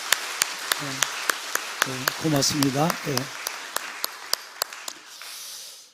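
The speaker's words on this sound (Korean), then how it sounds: "우리 박수 한번 할까요?" Church congregation clapping in unison during a Sunday worship service, a steady run of sharp, evenly spaced claps over several seconds while someone speaks briefly over them, ending in a quieter room tone.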